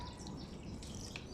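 Water from a hose or can splashes over the leaves of a mulched strawberry plant in a garden, a faint, brief, continuous patter and trickle heard close by.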